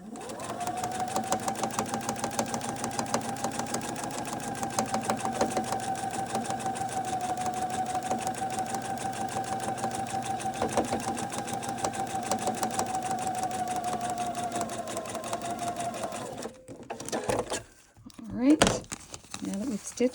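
A sewing machine stitches down a fabric edge on a quilt block, running as a steady, even whir for about sixteen seconds before stopping, followed by brief handling and rustling noises.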